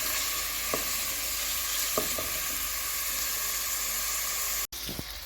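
Garlic, peppers, jalapeno, chilies and paprika fry in hot oil for rice, a loud, even sizzle with a few faint stirring taps and a brief interruption near the end.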